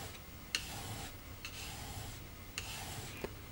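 A V chisel slides over a 600-grit diamond stone in slow, faint rubbing strokes, with light ticks where each pass starts and ends, against a quiet background hum.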